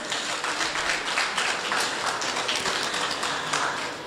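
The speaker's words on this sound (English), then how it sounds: "Yes, a round of applause." An audience at a national e-waste management policy launch ceremony applauds steadily, a dense wash of clapping hands held at an even level for several seconds in an indoor hall.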